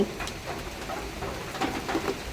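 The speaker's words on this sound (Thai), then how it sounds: "ตอนนี้ฝนกำลังมาแล้วนะคะ ดูฟ้ามืดเลยค่ะ ฝนมาแรงด้วย" Heavy rain pours steadily at an outdoor fishing pond under a darkening sky, a dense, even hiss of falling water with faint bird calls mixed in and no talking.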